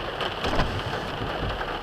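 Steady rain patters and hisses outside a car window, a dense, even wash of drops that stays close and fairly loud throughout with no voices.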